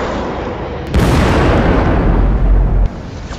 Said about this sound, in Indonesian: militer dan pemerintah pun meledakkan kota kecil itu menggunakan bom nuklir